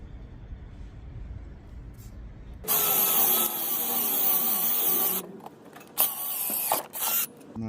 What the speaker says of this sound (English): we're gonna go ahead and drill through here first